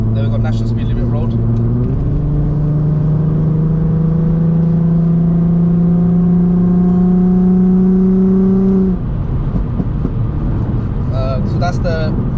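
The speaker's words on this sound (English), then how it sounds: "So that's the remap this car's had, the little pops and bangs." Remapped Volkswagen VR6 engine, a Passat R36 or Golf R32, pulling hard with a loud, steady rising drone for several seconds on a national speed limit road, then lifting off into crackling pops and bangs near the end.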